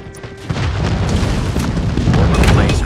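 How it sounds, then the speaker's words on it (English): Airstrike explosions in Call of Duty Mobile, on the Shipment 1944 map during a 10v10 team deathmatch, pound out heavy, loud booms that roll into one another in a dense, continuous barrage. "airstrike incoming."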